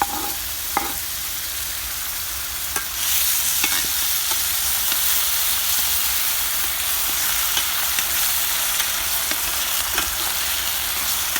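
Diced onions and pork cracklings sizzle steadily in a hot pan, a constant crackling hiss with occasional sharper pops and a few clinks near the start.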